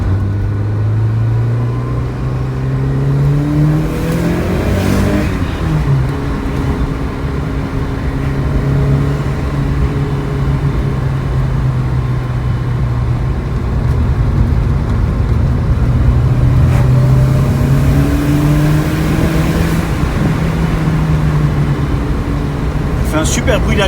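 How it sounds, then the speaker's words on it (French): Lancia Delta Integrale Evolution 2, slightly lowered, driving on closed country roads, its engine induction note rising and falling steadily through gear changes, continuous and close throughout. "Un super bruit d'induction en plus."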